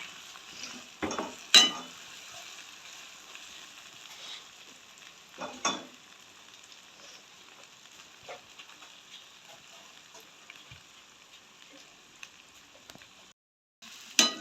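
Noodles frying in a pan for a Jaffna-style egg and vegetable noodle dish, a soft continuous sizzle broken by several sharp scraping stirs and clatters, fairly quiet and close.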